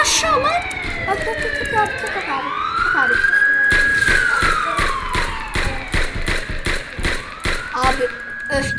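Police siren wailing in a video game, rising and falling in long sweeps over several seconds, loud and close, with gameplay thumps and taps underneath and a player talking over it.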